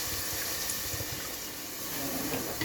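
One cup of water poured into fried spices in a cooking pot, a steady hissing, gushing wash of liquid that lasts the whole few seconds, close and without any talk.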